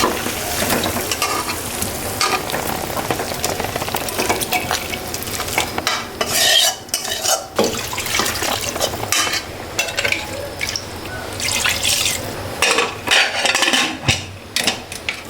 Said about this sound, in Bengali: কষানো হয়ে গেছে, এখন দিয়ে দিব আলু। একটু কষায় তারপর প্রেসারে দিয়ে দেবো।